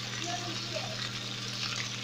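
Bacon frying in a pan, a steady close crackling sizzle throughout with faint background hum.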